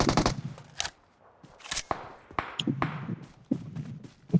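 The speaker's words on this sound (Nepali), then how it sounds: "पड्का माथि पनि छ" Sharp firecracker bangs burst at irregular intervals, some loud and close, others fainter, with brief quiet gaps between the cracks.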